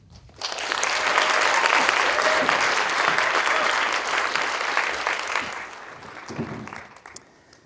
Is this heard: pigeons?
no